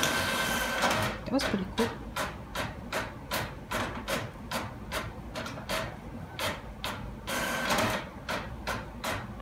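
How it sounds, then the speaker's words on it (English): A printer runs off a class schedule with a quick series of even, rhythmic mechanical clacks and feed strokes, close by, while a person talks over part of it. "got 1 class printing out right now"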